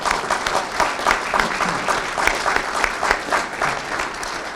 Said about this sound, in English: Let's applaud for the grant award.